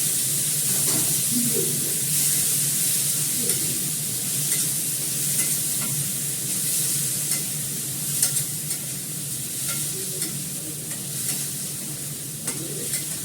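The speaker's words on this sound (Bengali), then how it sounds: "আমি এটা ফোড়ন দেবো হচ্ছে কালো জিরে।" Nigella seeds and potatoes fry in hot oil for a Bengali fish curry, a steady close sizzle and hiss with occasional stirring scrapes, brief faint voice traces underneath.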